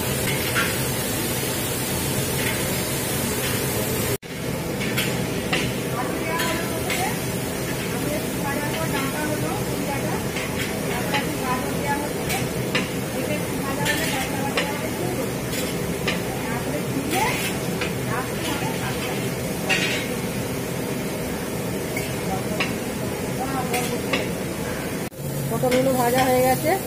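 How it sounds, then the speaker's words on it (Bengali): Potatoes and vegetable stems fry in a pan with a steady, dense sizzle and crackle that runs without a break, loud and close throughout. "আলু আর ডাঁটাটা ভাজা হচ্ছে।"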